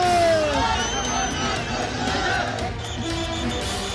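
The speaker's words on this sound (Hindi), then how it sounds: "नारों से गूंजती मंडी की वादियां" A large crowd at Kangana Ranaut's nomination rally in Mandi chants and shouts slogans, a dense, loud roar of many voices rising and falling continuously in the open air.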